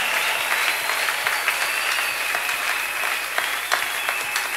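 A church congregation applauding together, loud sustained clapping from many hands, steady and dense throughout, with no voices standing out.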